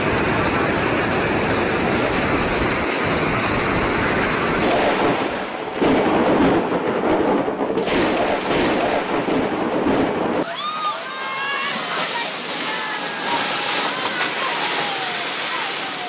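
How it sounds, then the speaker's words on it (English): Heavy rain pours with rumbling thunder during a storm, a dense roaring wash of noise with a deep rolling boom midway, then a sudden shift to lighter rainfall with faint chirping. "and the rain kept coming."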